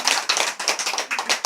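A small audience at a Buddhist meditation-hall lecture on basic doctrine breaks into brief applause: quick, uneven, close-sounding claps with no voices over them.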